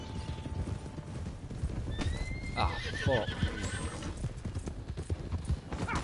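Horse hooves clip-clop at a steady gallop in the Red Dead video game, with a loud neigh partway through, over ambient game noise. A man swears briefly.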